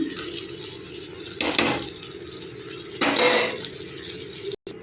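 Fried prawns tipped into tomato gravy in a pan, two short bursts of clattering and sizzling scraping over a quiet background hum, close up with no talk.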